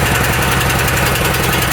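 A petrol pressure washer engine runs after a pull start, with a loud, close, continuous chugging rumble and no talking.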